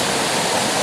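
Kawasan Falls in Cebu roars as a steady, dense rush of falling water, loud and close, a broad unbroken wash with no voices over it.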